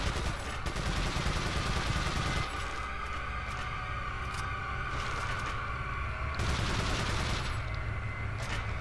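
A TMP submachine gun fires in Resident Evil 4 on the Wii, loud and near, with rapid automatic bursts broken by short gaps and steady game noise filling the quieter stretches.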